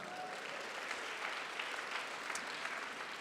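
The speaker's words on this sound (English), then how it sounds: "round of applause" Audience applause at an evening university event, a steady wash of clapping from a crowd heard at a distance and fairly faint, continuous throughout.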